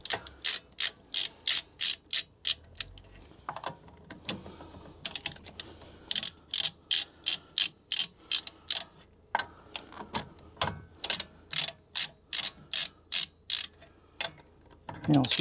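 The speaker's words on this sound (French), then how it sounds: "On va continuer de dévisser." Ratchet wrench loosening the wheel bolts on a Tesla Model, rapid bursts of crisp clicking pawl strokes in quick regular runs, close and loud, with short pauses between the bursts.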